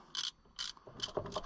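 Ratchet wrench tightening bolts on a 1994 Dodge Ram 2500 with a 5.9 Cummins diesel, giving four short, quiet ratcheting bursts at an even pace; no voices.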